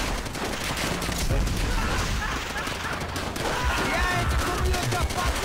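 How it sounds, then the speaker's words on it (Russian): Gunfire from overhead in Call of Duty: World at War, steady dense shooting throughout with a voice talking faintly underneath the continuous battle din. "Сверху все еще стреляют, мне кажется."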